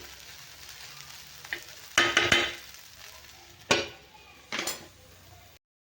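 A spoon stirs kurdai chutney in a hot pan, making a few scraping, sizzling strokes with light clinks against a low frying hiss, then stopping abruptly.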